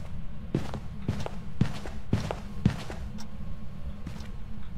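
Loud footfalls in the horror investigation game Phasmophobia: five or six steady, close thumps in a walking rhythm over a low background hum, then quiet.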